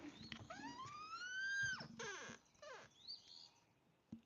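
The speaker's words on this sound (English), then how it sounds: "you hear the birds?" Songbirds chirp outdoors, fairly distant and soft, with rising whistled notes and quick trilled calls, a short pause, then a single sharp tap at the end.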